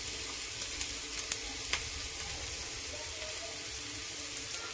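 Dried shrimp and potato sizzle steadily in an oiled pan over a low gas flame, with soft scraping taps from stirring scattered through the near, even frying hiss.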